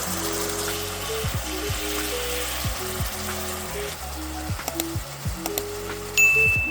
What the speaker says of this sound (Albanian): Hedhim pak ujë,